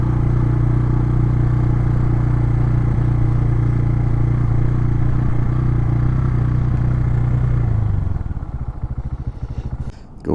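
An RPS Cruiser 250 EFI motorcycle, an oil-cooled six-speed OHC bike, idles loud and steady up close, then the engine note drops away near the end amid a brief clatter as it shuts down.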